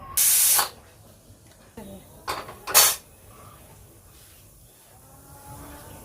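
A pressure cooker on the stove, boiling bitter gourd and pea dal in a home kitchen, releases a loud blast of steam hiss, then two shorter sharp bursts a couple of seconds later, with faint clinks of pots between.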